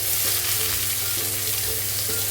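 Onion, garlic and green chillies fry in oil in a kadai, making a continuous, loud, close sizzle with faint stirring scrapes.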